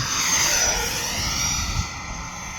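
An E-flite F-16 electric ducted fan RC jet with an 80mm fan flies past, its loud, steady high-pitched whine and rushing air holding throughout, slightly easing toward the end; no voices.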